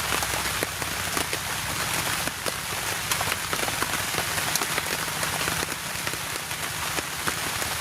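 Steady rain pours down in a forest, pattering densely on surfaces nearby with a constant hiss and scattered louder drops.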